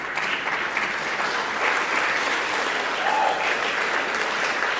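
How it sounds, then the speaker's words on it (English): Sustained applause from an audience at the Northern Territory Australian of the Year awards ceremony, a dense, steady wash of clapping filling the room for several seconds without a break. "Give yourselves a round of applause"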